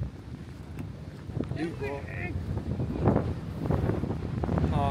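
Wind buffets the microphone at an ocean pier in Pacifica, California, a rough, gusting rumble that builds toward the end, with people talking throughout.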